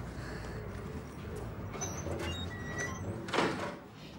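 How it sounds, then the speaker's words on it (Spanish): A door being shut in a home, heard as a short thud-and-slide near the end over a busy, noisy indoor background. "Cerrá la puerta."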